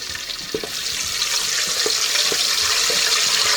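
A steady hiss of sizzling rises as a bay leaf fries in a hot pot for jollof rice, with faint scattered pops and crackles throughout, close and fairly even.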